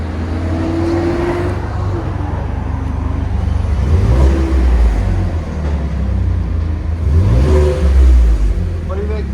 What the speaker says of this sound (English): Ford F-150 with a GIBSON.